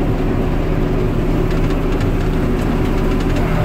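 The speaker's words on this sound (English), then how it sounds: "Add some more revs." A John Deere tractor engine with a Reco straw chopper, dragging a bale, runs steadily with a loud, low rumble, holding a constant drone without a clear rise in pitch.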